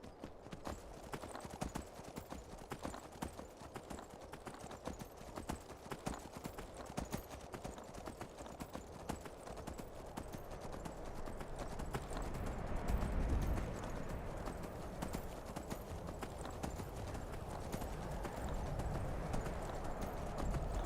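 Horse hooves clip-clop in a steady, even rhythm as a rider travels on horseback in Skyrim, a faint and continuous trotting with a low rumble and game ambience underneath.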